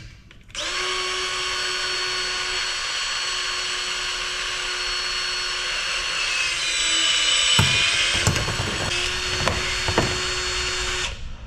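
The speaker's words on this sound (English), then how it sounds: "that's my DeWalt cable cutter, the DCE 150" A DeWalt DCE150 cordless cable cutter whirs steadily up close, then labors as it cuts through copper wire, with sharp cracks and snaps near the end as the cut finishes.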